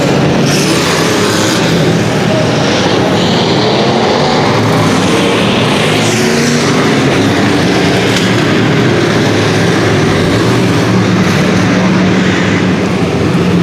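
A dense, loud roar of 25 Thunder Bomber race car engines at the start of a main event fills the air, steady and continuous, with no talking over it.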